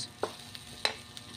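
Leftover rice with egg is stirred in a pan, making a few faint, scattered scrapes and soft clicks against a quiet background hiss.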